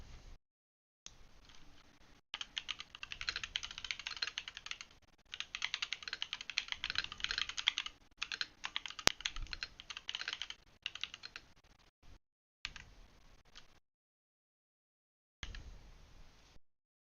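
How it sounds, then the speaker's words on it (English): Computer keyboard being typed on in bursts of rapid, close key clatter, with brief pauses between runs and a longer gap near the end before a final flurry, no voices. "A bit of keyboard ASMR"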